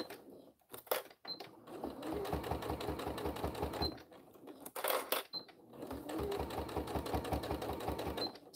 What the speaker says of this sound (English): Just a nice top stitch